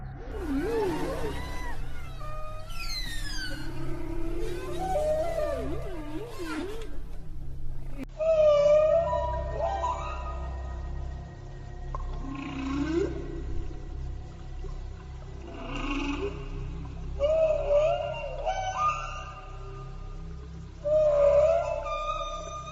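Long, sweeping whale calls rise and fall, some squealing and others moaning, heard without speech.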